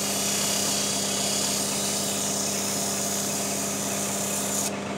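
Power sander working the inside of a jarrah and resin barrel cup, a steady continuous whir with a strong low hum and broad hiss held evenly throughout, cutting off just before the end.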